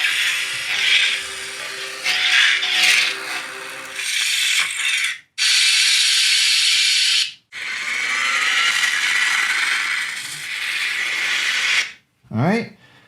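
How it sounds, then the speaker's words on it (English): A metal lightsaber chassis is threaded into the upper part of the hilt, giving loud close ratcheting and grinding rubs in several bursts separated by brief silences, ending with a sharp scrape. "So you want to take your chassis, thread it into the upper part of the hilt till it stops"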